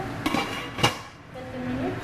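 A lid goes onto a pot of rice with two sharp metallic clanks close together, followed by a quieter rattle as it settles.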